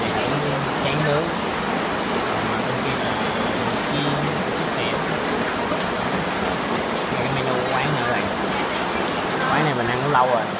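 Steady rain hisses down outside a street food stall in Ho Chi Minh City that sells grilled rice paper and grilled meat, a dense continuous wash with faint voices murmuring underneath.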